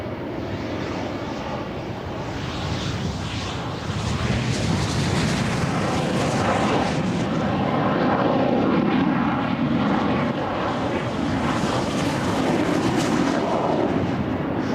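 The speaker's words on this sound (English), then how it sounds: "the source classic jet flight of Vampires and Venoms, each in a specific livery" De Havilland Vampire and Venom jet aircraft fly past in formation at the Farnborough air show, a loud, steady broadband jet roar that swells gently and holds for the whole stretch, with no voices.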